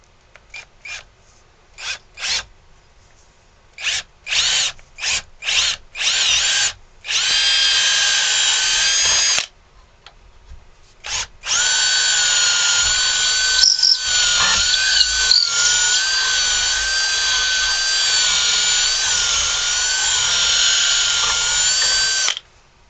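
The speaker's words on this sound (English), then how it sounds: "we want to drill a hole for our string" A power drill bores a hole into a carved wooden ventriloquist dummy figure, starting in short stuttering bursts, then a sustained high whine, a brief pause and a long continuous drilling run.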